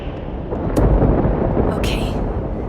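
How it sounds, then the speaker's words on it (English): Thunderstorm in the video game Life Is Strange Double Exposure: a heavy, continuous low rumble of thunder and rain filling the scene, with a couple of brief higher crackles on top and no talk. "Okay, the storm's not so bad here."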